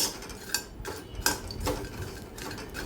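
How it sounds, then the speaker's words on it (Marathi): Dried Bombay duck fish being lightly roasted in a pan over a low flame, with quiet scattered clinks and scrapes of a utensil against the metal pan at close range and no talking. "बारीक गॅसवरती आपल्याला हे हलकंसं भाजून घ्यायचं आहे"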